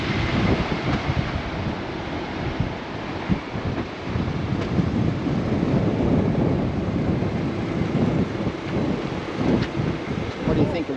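Strong gusty wind blows across a rough beach at Esperance, roaring steadily into the microphone with a low rumble and faint surf underneath for the whole stretch.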